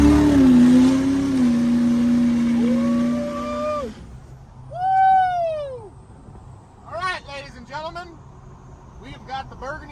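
Heavily overfueled 700-horsepower 6.0 Powerstroke diesel truck with a 68 mm VGT turbo launching hard from a stop. The engine roars loud and close for about four seconds, then cuts off, leaving voices and chirpy sounds.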